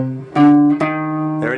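Electric guitar notes from a blues scale that includes the added flat five, a few sustained tones changing pitch one after another, clear and close with no voices.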